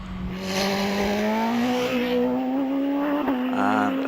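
A Force TA race car with a 1600cc engine climbs the hill at Prescott, its engine note rising steadily and loudly as it accelerates up the course and briefly dips between gears.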